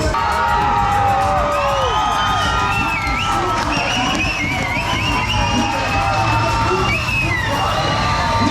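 A football crowd at a Flamengo match roars with sustained cheering, whoops and shouts, loud and continuous from start to end, with a nearby voice mixed in.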